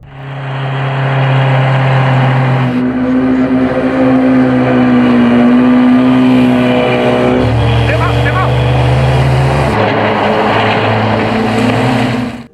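Motorboats roar through a chase scene in the Bond film Live and Let Die, with loud, steady engine drones that shift pitch as the boats pass, continuing for the whole stretch.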